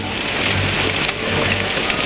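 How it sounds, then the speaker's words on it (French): Heavy rain pours down during a storm at a car race, a dense, steady roar of downpour with no talk. "Ce qui était une simple pluie devient une terrible tempête."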